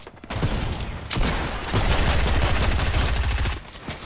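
Gunfire from the video game Fortnite sounds in dense, rapid bursts and crackling volleys that run almost without a break, loud and close, with a brief lull near the start and the end.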